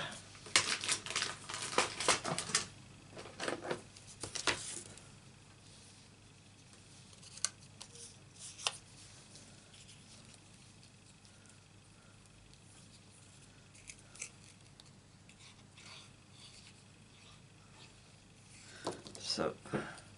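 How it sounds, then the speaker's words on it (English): Scissors snip by hand through card around a stamped sentiment in a Stampin' Up craft project, a burst of quick close crisp cuts at the start, then sparse single snips and a final cluster near the end, with quiet speech. "We'll stick that on there and then we'll cut round it"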